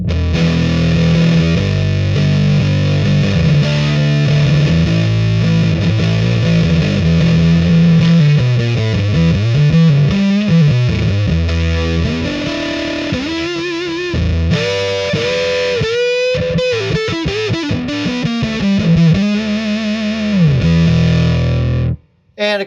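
Electric guitar played through Boss Metal Zone pedals cranked to maximum gain, a thick, heavily distorted tone with noisy hiss, sustained chords giving way to bending, sliding lead notes, loud and continuous until an abrupt cutoff.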